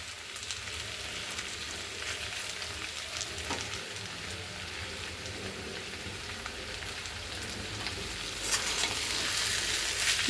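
Taro stolons and dried fish fry in a pan with a steady, close crackling sizzle that continues throughout. The sizzle grows a little louder near the end, and no one speaks.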